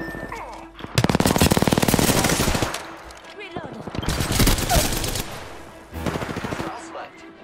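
Apex Legends gunfire: loud automatic bursts of rapid shots in three separate volleys, with short gaps of quieter game sound between them.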